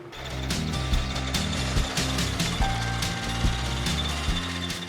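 A lawn mower engine runs steadily outdoors on a Kentucky bluegrass lawn, a loud droning hum layered with metallic ratcheting clatter and sharp clicks that continue throughout.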